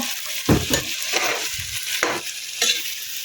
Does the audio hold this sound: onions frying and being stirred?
yes